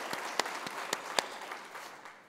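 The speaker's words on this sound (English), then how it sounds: "that absolutely deserves some applause" Audience applause at a farming-themed presentation, a steady wash of clapping with a few sharper individual claps standing out, moderately distant and filling the room without speech.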